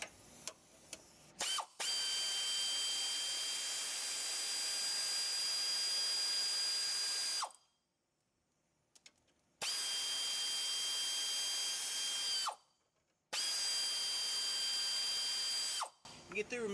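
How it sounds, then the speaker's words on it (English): A power tool whines steadily in long high-pitched runs while bolts come off the outside bumper support arm of a 2015-17 GMC 2500/3500 pickup, with short silent pauses between the three bursts. "There's two bolts right here to remove the outside support arm on the bumper."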